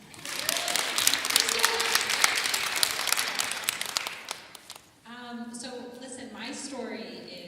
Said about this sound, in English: Can we just give another a round of applause for Joan?